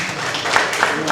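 Steady crowd applause at an official launch ceremony for a cultural business incubator fills the whole stretch, a dense wash of clapping at moderate loudness with a few sharper claps standing out.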